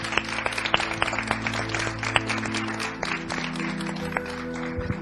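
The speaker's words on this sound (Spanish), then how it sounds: "Un aplauso, por favor, por Sandra." A lecture audience applauds the speaker Sandra, a short burst of dense, fairly close clapping that carries on steadily for several seconds with no one talking.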